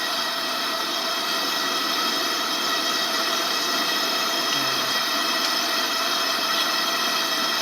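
An AGM Kampkook gas camp stove burner, still warming up with a yellow flame, gives a steady, even roar that holds unchanged throughout at moderate level with no talking.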